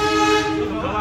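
A passing locomotive on an Indonesian railway blows a loud, sustained tonal horn, steady and close throughout the brief moment.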